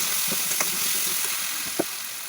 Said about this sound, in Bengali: এবার টমেটো সস দিয়ে আবার ভালো করে নাড়ছি।